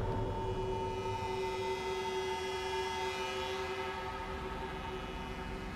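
A subway train in The Evil Within rumbles steadily with a deep, continuous roar and a sustained horn-like tone running through it, loud and close throughout, with no voices.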